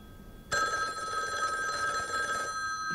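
An old telephone bell rings in the 1974 horror film Black Christmas, one continuous, loud metallic trill that cuts in suddenly and lasts about two seconds before stopping.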